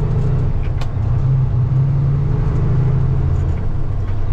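Road traffic heard from inside a truck cab makes a loud, steady engine and road rumble. The low drone continues without pause for the whole stretch, and no one speaks.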